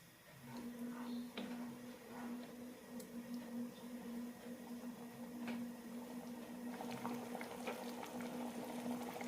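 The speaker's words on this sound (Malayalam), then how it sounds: "രണ്ട് മൂന്ന് മിനിറ്റ് നന്നായി തിളപ്പിക്കാം" Onion and tomato kurma curry bubbling at a steady boil in a pot, a continuous close simmer with scattered pops, a faint steady hum beneath it and no voices.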